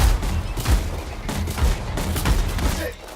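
An auto cannon fires in the Anthem video game as rapid, loud repeated bursts of gunfire. The shots come in rhythmic volleys across the clip.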